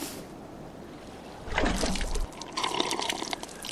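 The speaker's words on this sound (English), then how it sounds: "let's drink my water." Water sloshing and gulping as a character drinks in the video game Miasmata, a short burst of liquid sound midway that fades into softer trickling.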